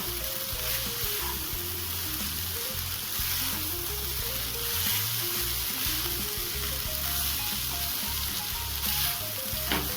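Chinese fried rice being stir-fried and mixed in a hot pan, a continuous sizzle under rhythmic scraping and tossing of the rice, close and steady throughout, with no voices.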